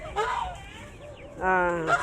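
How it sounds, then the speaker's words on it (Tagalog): A goose honks loudly twice at close range, harsh nasal calls separated by a short pause. "Kaso takot sila dahil nakaabang si Gansa"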